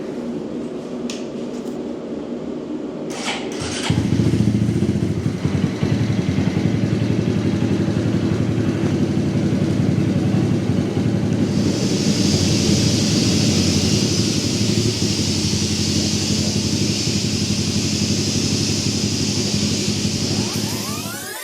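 A Honda Monkey 125 fitted with a Takegawa 145 kit roars on a dyno, starting with a few clicks, then the engine revs up and holds a loud, sustained drone before a sharp cut at the end, close and alone.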